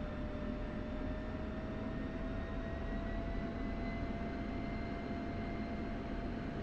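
F-16C jet engine in the DCS flight simulator running up about 10% above idle with the brakes held, a steady loud turbine roar with high whining tones throughout, no talk.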